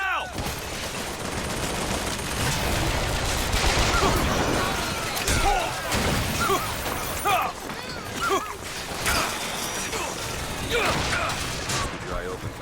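Turret gunfire during a BioShock Infinite firefight, with bursts of rapid shots, mechanical clatter and crashes overlapping through the scene while in-game voices speak over the action.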